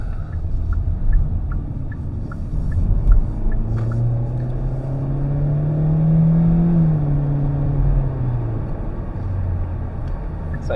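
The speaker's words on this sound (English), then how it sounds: "You do get a bit more engine noise" The engine of a 2024 Hyundai i30 Sedan in sport mode hums low, then rises in pitch as it revs up and accelerates, holding high before easing off, with a voice speaking briefly.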